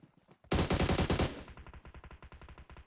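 Automatic weapon fire in the PUBG Mobile battle-royale game: a loud, dense burst that settles into a steady run of rapid, evenly spaced shots, close and alone with no talk over it.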